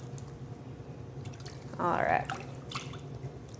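Water swirls and splashes in a basin as knee sleeves are swirled and left to soak, a short burst of sloshing under a brief spoken word.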